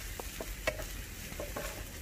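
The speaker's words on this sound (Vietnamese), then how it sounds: "Rồi chúng ta cứ xào cái phần củ hành tím này nó thơm thơm lên đi" Shallots stir-frying in a pan for a spicy vegetarian seitan dish, a steady low sizzle with soft scraping stirs and a few sharper spatula clicks, close and continuous with no talk.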